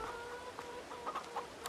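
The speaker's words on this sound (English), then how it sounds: "It is a speckled chicken." A speckled chicken in the Farming Simulator 22 video game clucks softly in short, quiet bursts inside a shed, several clucks spaced unevenly over a low background.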